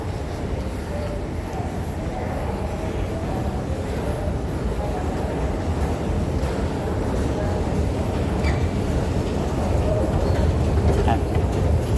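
A steady, loud rumble of an MRT metro train fills the space, with a constant mechanical roar and faint scattered sounds throughout.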